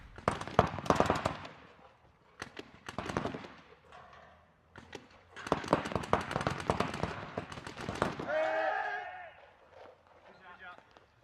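Rapid bursts of gunfire from a video game gunfight, crackling in quick volleys with short pauses, heard under a commentator's talk.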